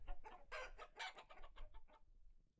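Chickens clucking in the video game Vintage Story, a quick run of soft, choppy clucks and squawks with a brief crow-like call, faint and fading out near the end.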